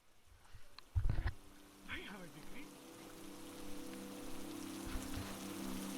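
Rain patters steadily on a monsoon forest trail in Matheran, a soft, continuous hiss of drops, with a few nearby knocks and brief talking over it.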